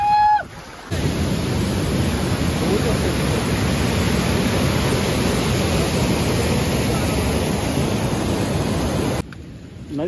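Clean water pouring down a small waterfall at Tamhini ghat, a steady close roar of rushing water that fills the whole stretch without a break.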